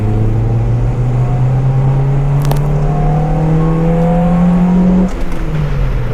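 A Honda Civic EK with a D16Y4 engine revs steadily, its tone climbing smoothly over several seconds before dropping off, loud and close with a constant mechanical hum.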